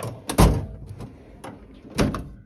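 A Kincrome tool box drawer slides and thumps open with a couple of sharp knocks and rattles, close by.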